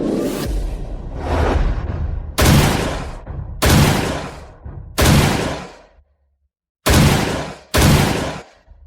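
Five loud gunshots fired at a target during a shooting contest, each a sharp broadband blast with a short decaying tail, coming in an irregular rhythm after a stretch of rougher noise, with no talking.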